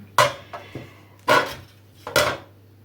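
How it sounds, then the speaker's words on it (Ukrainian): Three or four short scraping, rasping strokes of cabbage grated on a metal grater, close up, with pauses in between and no talking. "І починаємо натирати нашу капусту на таку тертушку."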